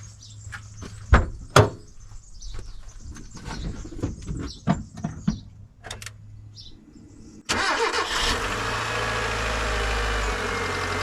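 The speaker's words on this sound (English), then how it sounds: "But especially when it starts up, it's for the first couple of minutes it's squeaking." A car engine cranks and catches after a stretch of clicks and knocks, then settles into a steady loud idle with a high continuous squeal from a worn belt, nearby.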